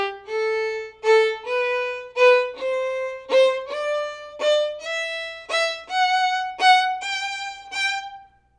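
Violin plays the Rondeau badly on purpose with heavy, pushed up bows, about a dozen separate, accented strokes in an uneven choppy rhythm, close and solo.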